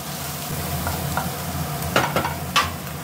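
Vegetables for fried rice being stirred and tossed in a pan, a steady low sizzle with a few sharper scraping clatters of the spatula near the end.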